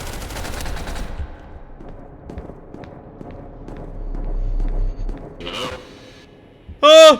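Rapid bursts of gunfire in SCP: Secret Laboratory, loud and close at the start, then scattered quieter shots and movement, with a sharp loud burst near the end.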